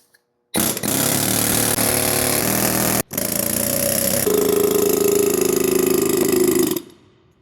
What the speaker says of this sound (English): So I'm going to use an air hammer to get started.